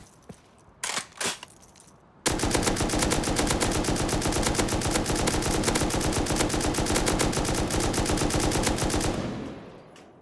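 An M249 machine gun in the video game Rust: a couple of brief shots, then a loud, continuous rapid-fire burst lasting about seven seconds before tapering off, with no voices.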